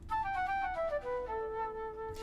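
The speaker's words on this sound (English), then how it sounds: "And here are those same notes being performed on a sweet flute," Sweet flute patch on a Yamaha MX-61 keyboard plays a smooth, legato descending phrase of soft sustained tones, clear and unaccompanied by speech.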